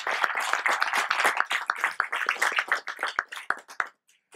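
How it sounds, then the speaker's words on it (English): An audience at a talk on community contributions to ERPNext bursts into clapping, a brisk run of close hand claps that thins out and stops near the end. "I think they deserve the applause for that."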